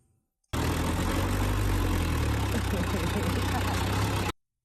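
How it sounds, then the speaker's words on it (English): Engine of an old scrap car in Africa running steadily and loud, a constant low rumbling idle that starts abruptly and cuts off after about four seconds, with no other sounds over it. "And that's the engine."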